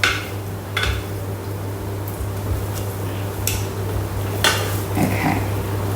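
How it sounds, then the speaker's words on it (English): Utensil scraping browned mince off the bottom of a Thermomix bowl while making a meat pie filling, giving scattered metallic scrapes and knocks over a steady appliance hum. "just had some brown bits on the bottom that I wanted to scrape off and mix into the"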